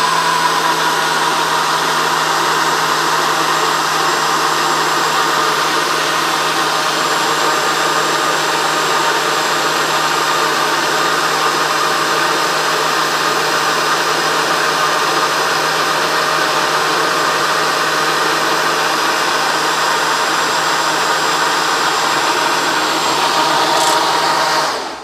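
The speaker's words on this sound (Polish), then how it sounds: "Ten blenderek jest naprawdę fajny, ponieważ jest mały, poręczny." A small, handy three-colour handheld blender whirs continuously while mixing ice cream ingredients, a loud, steady motor drone held close for the whole stretch with no voices.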